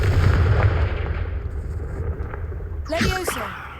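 A blasting spell cast in a wizarding action game bursts with a sharp crackling flare near the end, following a low rumbling background and faint game ambience.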